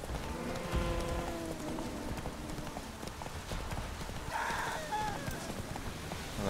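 Steady clip-clop of galloping horse hooves in the video game The Witcher 3 runs throughout, rhythmic and continuous over a dense rumbling background.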